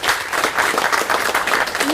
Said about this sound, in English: So please give Kayla a round of applause.